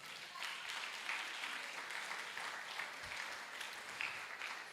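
A church congregation claps in praise during a sermon, steady broadband applause that stays fairly even and moderately faint throughout.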